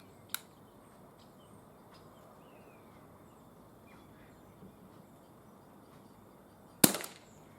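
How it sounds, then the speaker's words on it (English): Two sharp, isolated cracks from an Umarex CPS CO2 pellet pistol fired outdoors, one near the start and a louder one near the end, separated by a long quiet stretch. "So we're going to take 8 shots at 8 yards."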